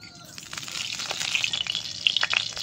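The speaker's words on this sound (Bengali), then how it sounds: "টক বসানোর জন্য কড়াইতে তেল দিয়ে দেবো।" Oil heats in a kadai for tempering, building from a faint hiss into a brighter sizzle with scattered sharp crackles and pops close by.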